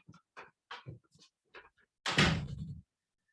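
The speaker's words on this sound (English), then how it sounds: "just going to quickly get my door" A door at home is opened to answer a caller, giving a loud thump and rattle after a series of short muffled knocks and scuffs.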